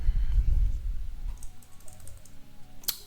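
Fingers tap out card details on a computer keyboard, a dense run of soft clicks over a low rumble, then a few scattered keystrokes and one sharp click near the end.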